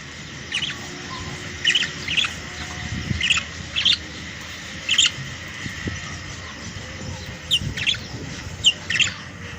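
Pet canaries chirping and trilling indoors in short bright bursts scattered over a steady low background hum, moderately close, with no talking.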